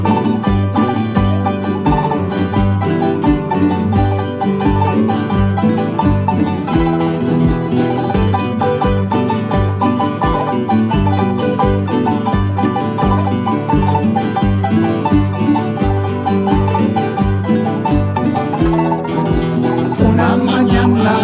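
A huayño song from Oruro plays loudly throughout, with a steady, driving rhythm of strummed strings and bass pulsing under a bright, continuous ensemble texture.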